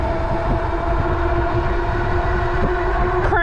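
An ENGWE EP-2 Pro e-bike motor runs at full throttle, a loud, continuous whine with steady tones and rushing noise, heard up close with no talking.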